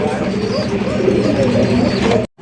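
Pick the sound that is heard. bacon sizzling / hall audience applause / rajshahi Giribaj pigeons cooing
rajshahi Giribaj pigeons cooing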